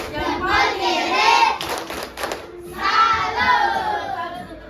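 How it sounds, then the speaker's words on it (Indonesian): A primary school class in Indonesia doing a 'tepuk salut' clapping cheer: children chant together in a lively, rhythmic burst with a short run of sharp claps in the middle, then the chanting resumes. "Oke, kita beri tepuk salut yang paling banyak poinnya."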